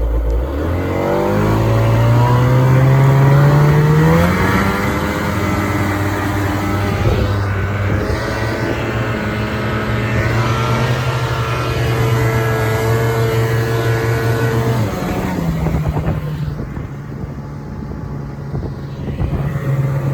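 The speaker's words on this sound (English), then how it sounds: "we got a little unbroken hill test just to make sure weight's good with this setup" A Ski-Doo Skandic snowmobile engine climbs an unbroken snow hill, droning loud and steady with rising and falling revs, easing off near the end.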